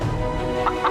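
A rooster clucks twice in quick succession near the end, with short faint calls over a steady tonal background hum.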